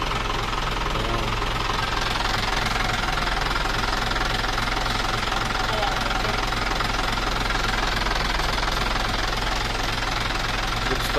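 Isuzu 6HH1 diesel engine idling after a semi-overhaul, a loud, steady knocking rumble with a rapid even beat, close up and unbroken throughout.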